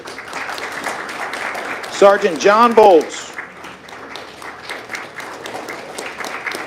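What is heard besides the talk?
audience applause at swearing-in ceremony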